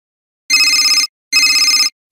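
A telephone rings twice, two loud, bright electronic trills of about half a second each separated by a short silence, clear and alone.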